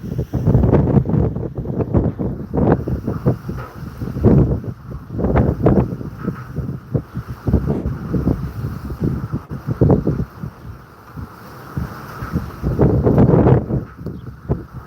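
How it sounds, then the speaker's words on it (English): Strong wind buffets the microphone in heavy, irregular gusts, roaring loud and close throughout. "it's super windy right now"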